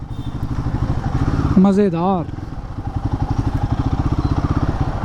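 Royal Enfield Guerrilla 450 motorcycle engine, loud and close, with a steady pulsing idle, one sharp rising rev near the middle, then a return to the throbbing idle; someone speaks briefly over it.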